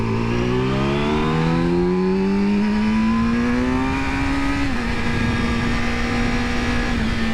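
A Yamaha YZF-R7 (OW-02) motorcycle engine rising steadily in pitch as it accelerates, then holding a steady high drone, loud and close throughout.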